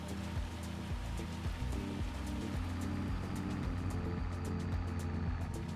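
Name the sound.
hail falling during baling with a Fiat tractor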